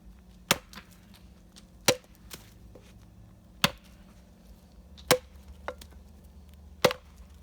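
Wood is split with a 1.5 pound hatchet: five sharp, close chops land at uneven intervals, each a crisp crack with quiet pauses between.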